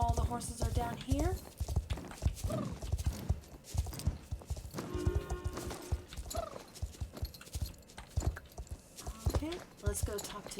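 Horses' hooves clip-clop in the Star Stable video game, a steady rhythmic walking patter under game music and a talking voice, with a brief whinny.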